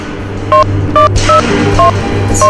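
A series of telephone keypad tones, five short beeps in a quick uneven sequence, loud and close, with a low hum beneath.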